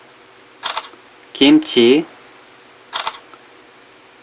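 A Galaxy Note 2 phone camera fires its shutter on a voice command. Short, crisp digital shutter clicks sound twice, one before and one after a spoken word in the middle.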